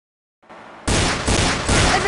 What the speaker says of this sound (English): did you hear all those gunshots?